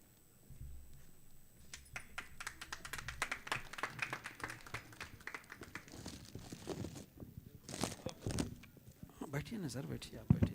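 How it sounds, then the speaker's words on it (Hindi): Applause at the Bharat Gaurav achievement award ceremony builds as scattered, rustling hand claps from an audience, fairly faint and mixed with voices talking throughout, growing denser toward the end. "जोरदार तालियां बजावें।"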